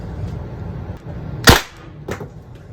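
A Pepperball TCP launcher fires a Grimburg JUL round at a metal target: one sharp, loud crack near the middle, then a quieter clank from the target about half a second later.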